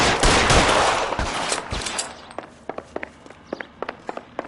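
Gunfire in L.A. Noire: a loud dense volley at first, fading into a steady series of separate sharp shots spaced about every quarter second, with no talking.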